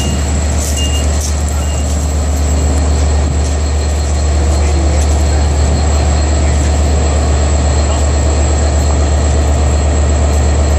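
A train arriving at Southampton station rumbles steadily with a heavy low drone and metallic rail noise, loud and continuous throughout, with no voices.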